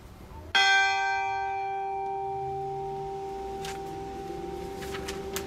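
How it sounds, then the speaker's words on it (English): A single church bell strikes once during an All Saints Sunday remembrance service at Grace Lutheran Church, a sharp, loud stroke whose bright ringing tone hangs and slowly decays for several seconds in the quiet sanctuary. "after which we will ring one bell in their memory"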